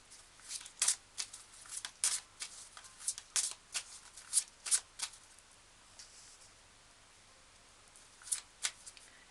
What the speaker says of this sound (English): I will pull some more cards.